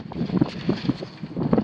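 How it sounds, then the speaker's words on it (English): Gusty wind buffets the microphone outdoors at a foundation site, producing uneven low rumbling thumps and rustling bursts. "I'm not going to go outside because it's windy."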